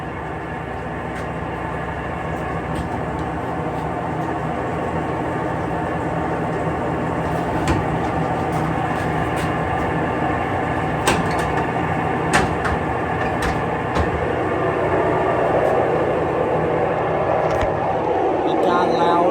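An older Whirlpool Cabrio washer with a bad shaft bearing roaring steadily in its spin cycle, a broad continuous rumble that grows slightly louder over time, with scattered clicks and knocks and occasional voices over it.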